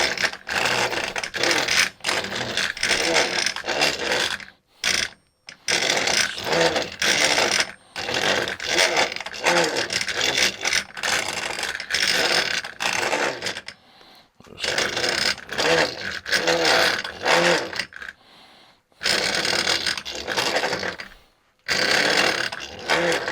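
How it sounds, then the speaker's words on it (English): A flat metal sheet for a fire pit is rolled back and forth through an English wheel to curve it, making close, loud, rhythmic mechanical rolling and squeaking in long runs separated by short pauses. "It is flat, but the English wheel, it gets a little curve on it."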